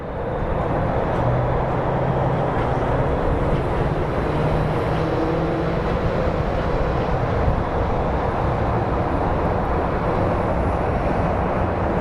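A Bombardier Challenger jet at Phoenix Sky Harbor airport produces a continuous, loud, broadband roar that holds steady throughout, with no talk over it.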